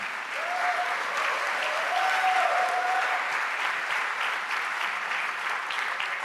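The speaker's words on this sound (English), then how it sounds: "I really recommend you hold the applause to the end because we have a lot of applauses." Sustained applause from an audience at a music research society meeting greeting an election result, dense steady clapping filling the room at full strength, with a faint tonal whistle briefly riding above it early on.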